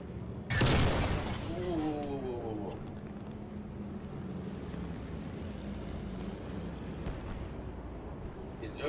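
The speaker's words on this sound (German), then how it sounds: "Hier ist irgendwas explodiert und ich bin reingelaufen." Loud, sudden explosion in the World War II shooter Post Scriptum, a sharp blast followed by a lingering rumbling tail and ambient battlefield noise, with a voice briefly heard.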